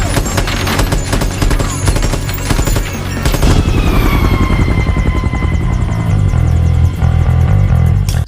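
A helicopter lifting a car in a film roars loudly with a fast rotor chop, joined by rapid gunfire-like bursts in the first few seconds, after which the rotor throb continues steadily and close.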